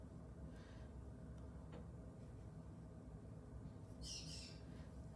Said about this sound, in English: If you hear a noise in the background, it's just my parrot.